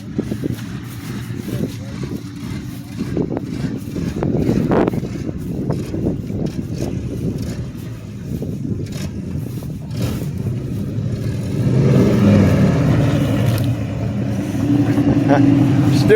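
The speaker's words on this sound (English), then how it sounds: "I don't know if you guys can hear that on camera, but it's romp, romp, romp, romp. Real rough idle." 1980s first-generation Toyota 4Runner engine at a rough, uneven idle, a low lumpy throb with a pulsing beat, heard up close with a rise in level midway as the engine nears, with people talking over it.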